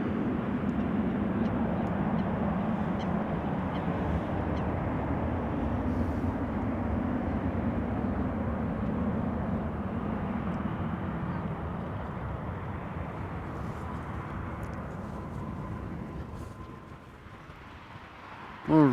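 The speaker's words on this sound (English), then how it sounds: "KLM flight 1002 arriving from London Heathrow, 737-800" A KLM Boeing 737-800 arrives at Amsterdam Schiphol, a broad rumbling jet roar heard up close that holds steady for a long stretch before easing off near the end, with no voices.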